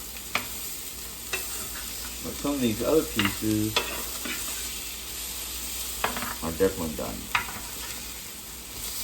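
Meat sizzles continuously in a frying pan with occasional scraping stirs, while someone talks over the steady crackle.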